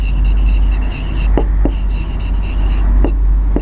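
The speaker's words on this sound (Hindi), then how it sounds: "तो अब हम कंक्लूडिंग स्टेटमेंट लिखते हैं" Pen strokes on paper while a maths concluding statement is written out, with soft scratchy scribbling over a constant low hum and a few sharper taps marking quick strokes.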